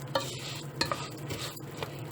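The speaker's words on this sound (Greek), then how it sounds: "έχει αρχίσει και κάνει αυτό το τσίρισμα, δεν ξέρω αν το ακούτε" Rice sizzles softly in a hot pan, with occasional scraping and stirring clicks from a utensil.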